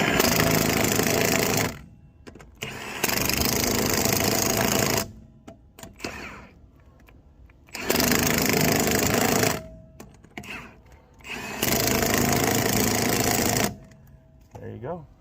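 A Milwaukee impact driver tightens lug nuts on a fire truck wheel, in three loud rattling hammering bursts of about two to three seconds each, separated by quieter pauses where someone talks.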